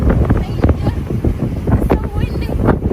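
Gusty wind buffets the microphone in heavy low rumbles, with scattered voices and outdoor clatter underneath, outdoors in Mexico.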